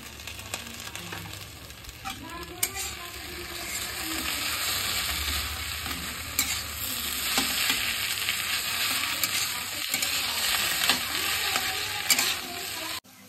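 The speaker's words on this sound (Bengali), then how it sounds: "এবার এটাকে ভালো করে মিশিয়ে নেব" Egg chowmein with tomato ketchup stir-fried in a pan, giving a continuous close sizzle with frequent scraping and tossing sounds from steady mixing throughout.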